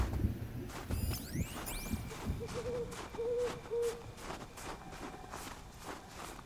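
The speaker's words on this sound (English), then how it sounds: "Owl." Owl hooting in Horizon Zero Dawn, a few soft low hoots in a row amid footsteps crunching through the game world, fairly quiet.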